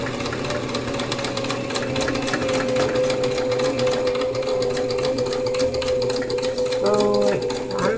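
A sewing machine stitches down a ruffle on a maxi skirt, running as a steady, close mechanical whir for most of the stretch, with a brief change in pitch near the end as the stitch shifts.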